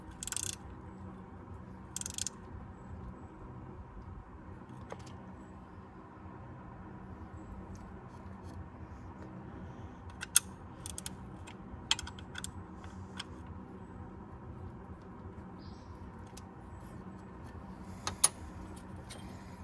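A bolt is tightened on the belt tensioner of a Kubota SLV75, giving faint, sparse ratcheting clicks and light metallic ticks that come in short bursts over a low, steady background hum.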